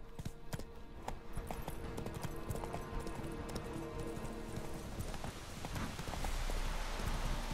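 Horse hooves clip-clop steadily in The Witcher 3 as a rider travels toward a quest goal, a brisk continuous gallop rhythm that is close and clear against a busy game soundscape and swells slightly louder near the end.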